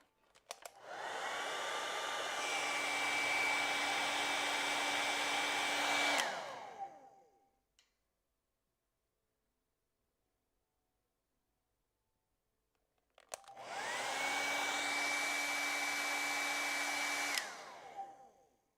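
A hair dryer blows loud and steady over thinned acrylic paint on a bird painting, running about six seconds, cutting off into silence, then starting again for another four-second burst.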